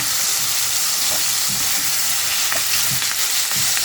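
Tomatoes, onions and curry leaves sizzle steadily in hot oil, a loud continuous frying hiss with occasional light stirring clicks, up close.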